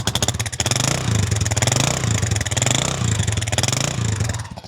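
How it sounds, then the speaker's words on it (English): A motorcycle engine idles steadily nearby with an even, rapid putter and light mechanical clatter, no revving. "Engine sounds nice and smooth and tight as you expect from a fully rebuilt bike."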